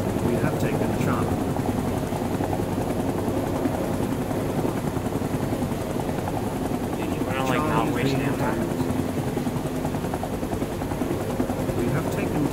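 A helicopter in Rising Storm 2 Vietnam, its rotor producing a constant loud, throbbing drone throughout, with distant gunfire and radio voices talking over it.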